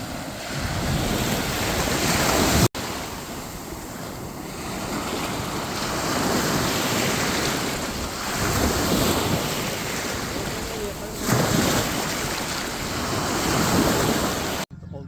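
Ocean surf crashes continuously on a beach at Iba, Zambales, a broad roar of breaking waves mixed with strong wind buffeting the microphone, with no clear talk.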